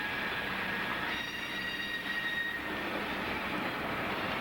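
Southern Pacific diesel locomotive running on light-rail branch line track, heard from the cab: a steady rumbling roll with faint squeals of wheels on rail, continuous and moderately loud throughout.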